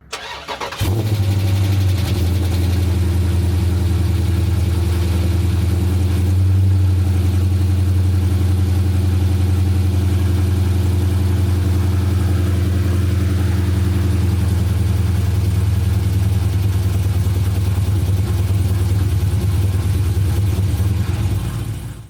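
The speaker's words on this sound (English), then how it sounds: "we did actually just do a cold start of this motor, so we'll go ahead and let y'all listen to that first" Stroked 7-liter HEMI V8 in a Dodge Scat Pack on a cold start, catching right away and holding a loud, steady, deep idle with a strong low drone for the whole stretch, close up and with no talk.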